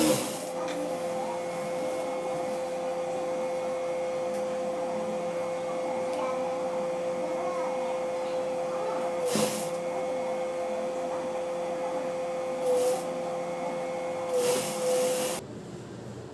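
A sewing machine stitches the lining and skirt fabric of a reused frock together with a steady motor hum and whir. A few soft thumps break in near the end before the sound drops away, and nobody speaks.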